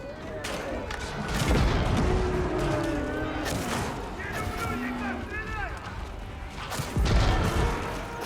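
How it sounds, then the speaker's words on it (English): Bombards in Age of Empires 4 pound a keep with repeated heavy booms and crashes under lively commentary, amid the dense clatter of battle. "Bombards hitting the keep there."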